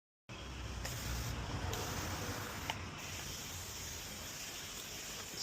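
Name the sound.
spray bottle spraying car side window for tint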